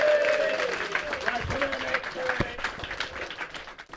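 A live audience at a Bugglebots 2018 robot combat event applauds and cheers for the robot Drizzle, clapping and crowd noise that fade unevenly, with a voice speaking over part of it.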